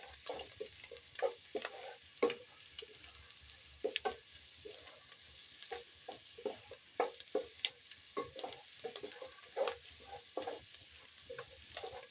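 Garlic being sautéed in a pan for egg fried rice, stirred until its raw smell fades, with soft continuous sizzling under repeated scraping and stirring clatter close by.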